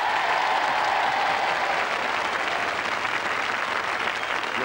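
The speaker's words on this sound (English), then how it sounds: "With a hearty round of applause, if you please." Steady, sustained applause from a studio audience at a 1987 BBC royal charity knockout tournament, a dense wash of many hands clapping at even loudness throughout.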